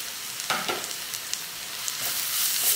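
Onions sizzle steadily in a hot pan as ginger, garlic and green chili paste is added and stirred, a loud close hiss with a few scraping stir sounds and no voices.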